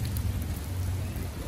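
Heavy rain falls in Germany in a constant close, loud rushing wash, heard from under the shelter of a shopping centre.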